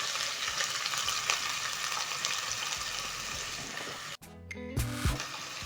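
Two large onions being stirred into hot oil with cumin seeds, a steady crackling sizzle with scraping stir strokes, broken near the end by a brief pause and a couple of clatters.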